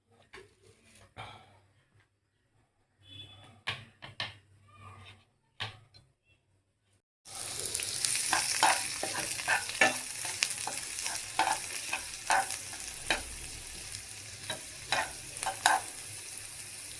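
Onions fry in a nonstick pan: a few quiet stirring clicks and taps at first, then a loud, steady broadband sizzle bursts in and carries on, studded with scraping stirs of the utensil against the pan.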